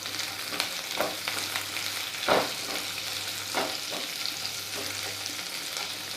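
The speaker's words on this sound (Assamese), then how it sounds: "ভালদৰে লৰাই দিছোঁ।" Panch phoron and whole cumin seeds fry in a pan while being stirred, giving a steady close sizzle with scraping strokes of the spoon against the pan and a few louder scrapes.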